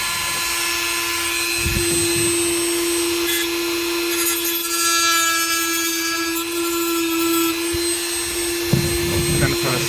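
A Dremel cutting wheel grinds through a metal hanger during a car climate-control swap, producing a close, steady high-pitched whine that holds for the full stretch with brief thumps as the cut progresses.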